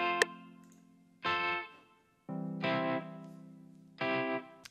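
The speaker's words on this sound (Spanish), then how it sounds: "acá tengo otra guitarra, en la intro, es una guitarra en la intro" Guitar chords in the intro of a cumbia beat built in FL Studio ring out with an effected, reverberant tone, three sustained strummed hits spaced about a second and a half apart, each decaying smoothly, with no voices.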